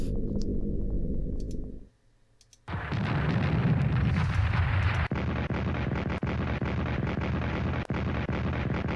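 Defensive artillery fire in the WWI strategy game Strategic Command: a loud, rumbling blast erupts after a brief quiet, followed by a sustained dense roar broken by faint clicks.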